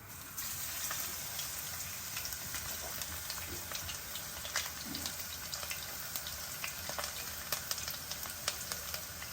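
Garlic frying in coconut oil for a drumstick-leaf fry, a continuous crackling sizzle with scattered sharp pops throughout, no talking.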